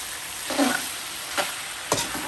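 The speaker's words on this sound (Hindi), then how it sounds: "इसको हम अच्छी तरह से भून लेंगे।" Minced keema roasting in a pan under a steady frying hiss, with three distinct stirring scrapes spaced out over a couple of seconds.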